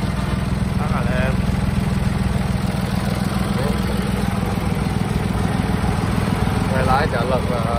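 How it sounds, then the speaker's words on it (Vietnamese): A Kubota M1 tractor diesel engine idles smoothly with a steady low throbbing rumble throughout, close and even, while someone talks over it. "máy nổ thì khói trắng khói đen rồi gì cũng có nhiều rồi, rất là êm"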